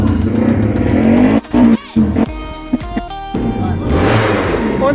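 A racing motorcycle engine being prepared by a mechanic in the Putra Anugrah Racing Division paddock at Wonogiri, revving loudly and continuously with brief throttle cuts.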